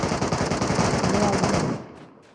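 Dense, continuous automatic gunfire in a video game rattles loudly for nearly two seconds, then cuts off, leaving a few faint trailing shots.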